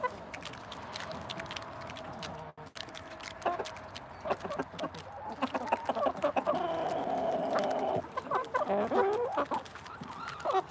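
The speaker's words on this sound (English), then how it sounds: "She's my only chicken right here" Backyard chickens, among them a hen that lays white eggs, cluck and squawk steadily at close range with a low farmyard murmur underneath, getting busier and louder toward the end.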